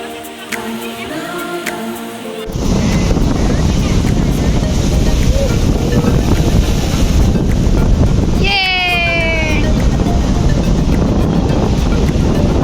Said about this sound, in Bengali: বিশাল বড় বড় ঢেউ, দেখো